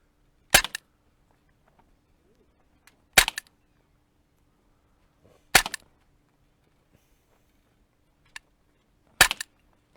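Four sharp, isolated reports from an Umarex M29 CO2 airgun at a backyard range, evenly spaced a couple of seconds apart, each a crisp loud crack with a brief tail over otherwise quiet surroundings.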